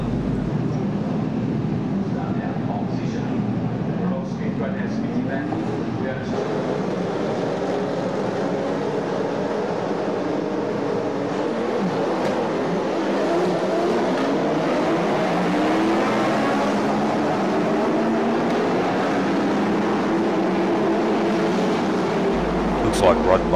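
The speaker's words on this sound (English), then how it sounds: "It'll be an interesting start to see who gets off first amongst all these cars." A large grid of Group A and Group C touring cars, among them a Nissan Skyline GTR, roars away from the start of a race, engine noise swelling and rising under a commentator's voice.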